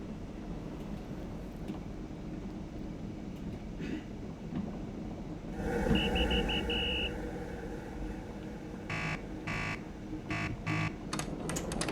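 A short series of rapid electronic buzzer tones sounds from a Class 122 diesel railcar in a train simulator game, rising over a steady low engine rumble, followed by clicking and rattling noises.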